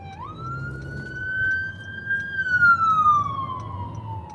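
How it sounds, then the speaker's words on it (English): A loud wailing ambulance siren rises, holds a steady high tone, then slowly drops in pitch as it passes close by, with traffic rumbling underneath. "Just trying to let an ambulance get through here."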